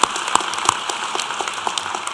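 Audience applause at an engineering and applied science graduation ceremony, a brief burst of scattered hand claps with a few sharp louder claps near the start.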